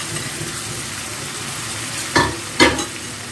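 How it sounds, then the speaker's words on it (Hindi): Chicken pieces fry in oil in a pan, giving a steady close sizzle with two brief louder crackles near the end. "थोड़ा सा तेल शामिल करेंगे चिकन के लिए, और अब इसमें हम शामिल कर देंगे चिकन।"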